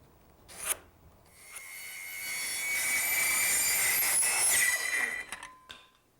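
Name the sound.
cutting off and trimming wooden piece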